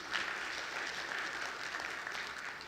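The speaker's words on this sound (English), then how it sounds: "3 seconds for you to clap, right?" An audience at an annual conference claps for a few seconds, a steady, dense round of applause with no voices.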